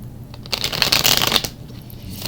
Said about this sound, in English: One more shuffle left to go.